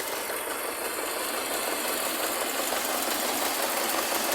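A homemade tractor built on a T-25 engine runs steadily nearby while raking hay, its engine giving a constant rough, knocking drone with no break throughout.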